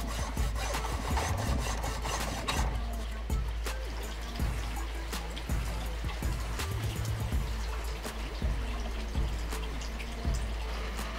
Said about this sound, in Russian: Сделаю пропил вдоль, пару миллиметров, не дорезая до гвоздя.